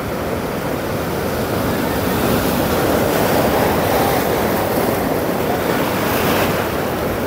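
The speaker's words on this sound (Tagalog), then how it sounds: "Lakas ng alon dito." Strong ocean surf rolls continuously on a surfing beach in La Union, a loud broadband roar of breaking waves mixed with gusting wind buffeting the microphone, steady throughout with no voices.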